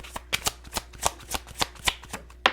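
Oracle cards shuffled close by in a quick run of crisp riffling bursts, about a dozen sharp flutters in two and a half seconds, with no talking.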